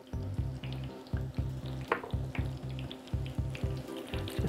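Apple fritters frying in hot oil: a steady, faint crackling sizzle runs throughout, over a low rhythmic thumping and a few brief clinks.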